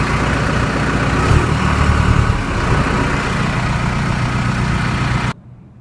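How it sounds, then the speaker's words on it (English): An 1840 machine idles with a steady, loud, low engine rumble, then the sound cuts off abruptly near the end. "Okay, so I'm going to operate this machine."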